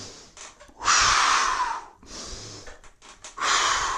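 Deep, forceful breaths accompany a resistance band leg workout, three long inhale-exhale cycles close to the microphone with short pauses between them and no talking.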